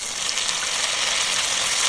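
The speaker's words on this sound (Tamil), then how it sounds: "ஒரு பாத்திரத்தில் எண்ணெயை ஊற்றிட்டு வெந்தயம், வெங்காயத்தை போடுங்க." Onions and fenugreek seeds frying in a pan of hot oil give a steady, dense sizzle with fine crackling, close and even throughout with no talk.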